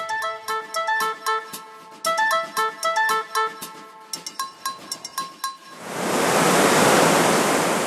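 Water rushing through the Plotinka city dam in Ekaterinburg, with falling water turning gear wheels: after several seconds of tonal, rhythmic chiming, a loud steady roar of rushing water fills the final two seconds, close and continuous.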